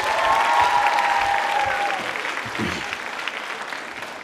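Applause from the audience at a college quiz show and women's club New Year event, fairly loud at first and gradually thinning out, with a brief voice breaking through near the middle.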